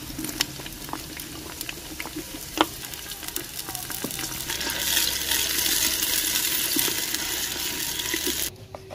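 Onions and green garlic sizzling in a pan for a village-style mixed vegetable dish, a steady crackling fry that swells louder midway as fresh ingredients hit the hot oil, with occasional clinks of stirring.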